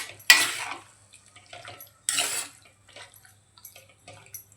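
Kadai chicken masala mixed in a pan, heard as two loud scraping clatters of a spoon against metal followed by softer wet stirring scrapes and taps, close and with no talking.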